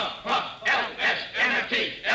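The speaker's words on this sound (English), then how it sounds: "Hey, listen to the cheering section." A football stadium cheering section roars in rhythmic bursts, about five loud surging chants in quick succession, like a crowd shouting together from the stands.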